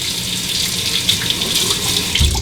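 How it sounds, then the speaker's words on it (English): A tap runs steadily as a Fine Marvel safety razor is rinsed under it, a loud close wash of water with small splashes and knocks. "I'll rinse off."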